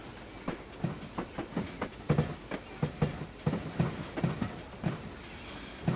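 A 2F dock tank locomotive runs along the Falmouth branch line, its wheels and chuffs beating in a steady rhythmic clatter of repeated soft knocks, moderately close, with no talk.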